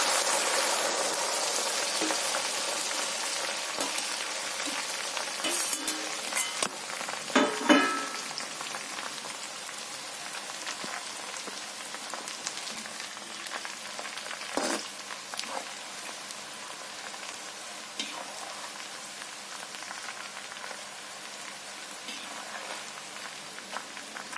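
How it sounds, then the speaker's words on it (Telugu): Coriander leaves added bit by bit to hot oil give a steady, soft hiss with faint crackles that flare briefly now and then, close by and fairly quiet, with no talking. "ఆయిల్ హీట్ ఎక్కింది. కొత్తిమీర వేస్తున్నాను."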